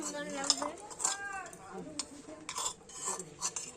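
Metal utensils scrape and clink against a pan in repeated stirring strokes while frying vegetables, with a voice speaking briefly over the clatter.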